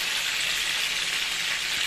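Chicken pieces fry in a pan with a dense, continuous sizzle and crackle of hot oil, loud and close, with no voices over it.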